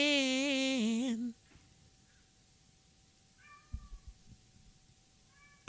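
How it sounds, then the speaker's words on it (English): A pet cat meows loudly and close up for about a second, a drawn-out wavering cry, followed by quiet and a few shorter, fainter chirping meows. "I don't know why my cat is making these weirdo noises."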